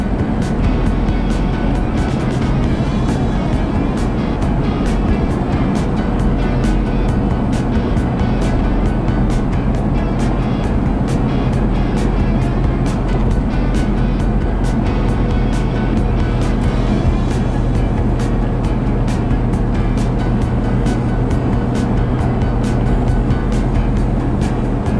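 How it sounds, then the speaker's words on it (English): A truck rumbles along a bumpy country road near St. Libory, a loud constant engine drone and road roar with frequent sharp knocks and rattles from bouncing over the surface. "we're in a truck, we're not in a car."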